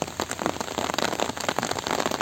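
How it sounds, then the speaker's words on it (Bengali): Rain falls outdoors during a village fishing trip in floodwater, a dense patter of drops drumming on surfaces, close and steady, with no voices. "এই যে বৃষ্টি নামে বসে"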